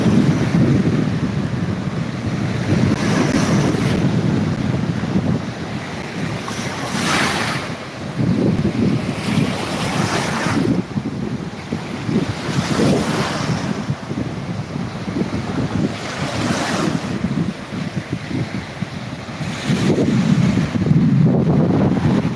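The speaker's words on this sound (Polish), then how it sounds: "Poczujcie morze, poczujcie tą energię." Baltic Sea surf rolling ashore in steady, loud swells, with wind buffeting the microphone throughout and no voices.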